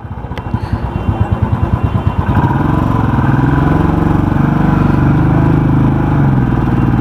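A motorcycle cruising on a highway near a toll plaza in fog, its engine a loud, steady drone close by after a brief rising, pulsing rev at the start.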